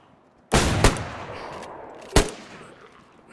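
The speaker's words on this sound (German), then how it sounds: "Oh, der schießt in meine Richtung." Two sharp gunshots in the video game DayZ ring out about a second and a half apart, each followed by a lingering echoing tail.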